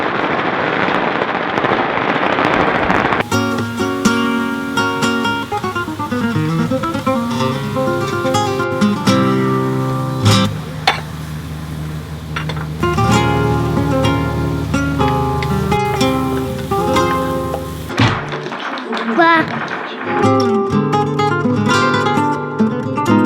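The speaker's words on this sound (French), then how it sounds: "comme ça vous devriez entendre un petit peu les pétards" Firecrackers burst for Chinese New Year in dense, rapid strings of sharp cracks and pops, loud and continuous, echoing with brief lulls and a short pause near the end before more bangs.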